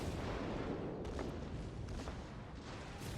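Battleship guns fire in World of Warships, heavy, distant salvo booms from a Scharnhorst-versus-Kongo engagement, a few sharp blasts around the middle over a constant low rumble, fairly faint overall.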